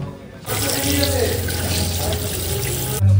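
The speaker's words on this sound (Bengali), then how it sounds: "তো এখন হাতটা ধুয়ে আসি" A running tap for hand washing bursts on after a brief quiet start, then gushes and splashes steadily and loudly, close by, until cutting off at the end.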